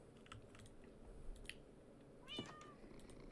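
A cat meows a few short times at close range, the sound fairly quiet over faint room noise and soft clicking.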